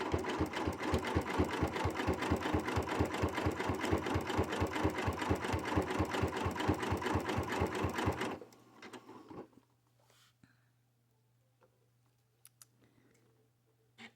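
A sewing machine stitches a jelly roll rug with a fast, steady, rhythmic clatter for about eight seconds, then stops abruptly, leaving a faint low hum and a few small clicks.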